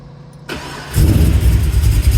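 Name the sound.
cold start of HSV Grange car engine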